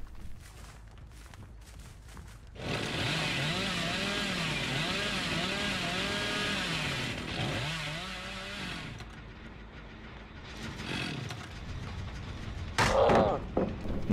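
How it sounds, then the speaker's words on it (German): A chainsaw in the horror game Dead by Daylight roars to life and revs hard for several seconds, its whining engine wavering up and down, then drops back to a rough idle with a sharp clatter near the end. "mit der Kettensäge können wir natürlich auch instant irgendwelche Paletten zerstören"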